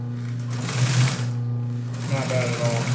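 Sewing machine stitching a boat cushion, a steady mechanical hum and rapid needle clatter running throughout with a brief slowdown, under a voice talking.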